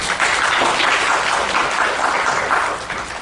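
A seminar audience at a Korean research society meeting gives a loud, dense round of applause that stays steady and then eases slightly at the end, with no speech on top.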